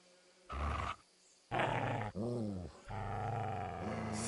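A hostile dog in the game Kingdom Come: Deliverance II lets out several loud, close snarling growls and roars in separate bursts of about half a second to a second and a half, with short pauses between them.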